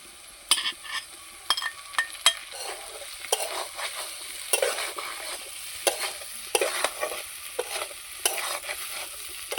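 Potatoes and fried pangas fish pieces stir-fry in a pan under a soft sizzle, punctuated by repeated sharp scrapes and clinks of a spatula at an irregular pace, with no talking.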